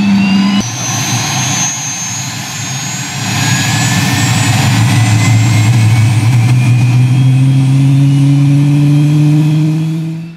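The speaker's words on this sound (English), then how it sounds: "On startup, it's quiet except for the initial light off." The engine of a Cirrus Vision Jet spools up from a low rumble into a loud, steady whine with rising tones, close by and sustained, with no voices.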